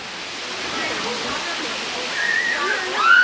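A waterfall in Thailand roars with a steady broad rush of falling water, with a person speaking over it.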